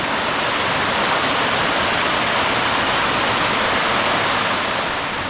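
Towangseong waterfall in Seoraksan, Korea's tallest at 320 m, pours as a dense, constant roar of falling water, loud and close, with no pauses or voices.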